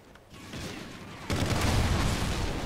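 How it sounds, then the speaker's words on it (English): Burst-fire gunshots from a rifle in the shooting game Call of Duty: Ghosts come as a loud, dense rattle of game gunfire. The noise swells sharply partway through and stays harsh to the end. "It's not an automatic, it's a burst fire."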